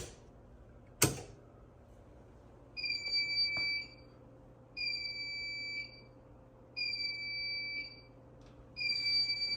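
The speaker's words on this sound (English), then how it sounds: "Why is the fire alarm going off?" An access control system's fire alarm sounds in repeated beeping bursts, each a sustained high electronic tone lasting about a second, spaced evenly after a sharp click at the start.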